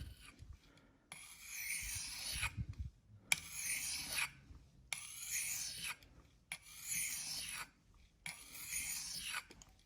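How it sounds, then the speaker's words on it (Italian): A knife blade is sharpened with reverse strokes that run from the tip toward the opposite end, making rhythmic rasping scrapes in five separate passes with short silent gaps between them. The scrapes are close and fairly quiet. "nella filatura inversa io parto dalla punta della lama e spingo verso la parte opposta."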